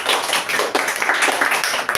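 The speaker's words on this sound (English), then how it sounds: "give her a big round of applause" Students applauding a speaker at a public speaking seminar, a dense, lively burst of close clapping that continues throughout without talk.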